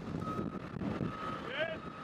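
A tow truck's reversing alarm beeps in a steady, evenly spaced tone at a large multi-vehicle highway pileup scene, heard over wind and traffic rumble.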